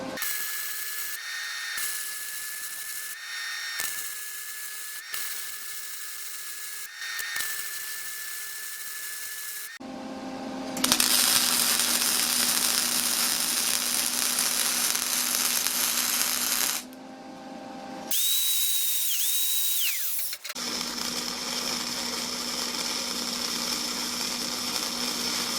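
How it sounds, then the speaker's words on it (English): Gasless flux-core MIG welding on beveled steel edges at high amperage, a loud steady crackling buzz holding for several seconds at a time, broken by short pauses between runs. "Let's start welding."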